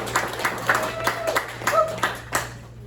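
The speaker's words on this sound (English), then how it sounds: "You can go ahead and clap real quick." A small group at a Lemon Grove city council meeting claps for a garden co-op proclamation, sparse, uneven claps in a reverberant room over a steady low hum, with faint voices between them.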